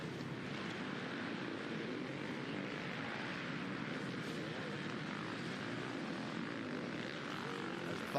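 Steady buzzing drone of a Fox FPV racing drone flying over a motocross race at the Southwick GP, a continuous droning whine with broad background noise and no talk.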